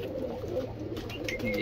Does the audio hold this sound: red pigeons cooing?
yes